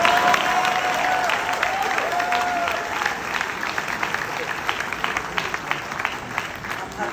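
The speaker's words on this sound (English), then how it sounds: "Will the guys applaud them?" Audience applause at a gathering honouring a group of women beneficiaries, a dense, steady wash of clapping sustained throughout and easing slightly toward the end, with some crowd murmur mixed in.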